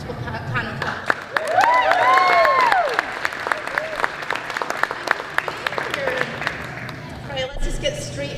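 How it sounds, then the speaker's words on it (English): A convention audience applauds and cheers a cast panel for the game Marvel Rivals at the SoCal Game Expo, with steady clapping, scattered sharp claps and a voice talking over the crowd. "applause for our beautiful panel class."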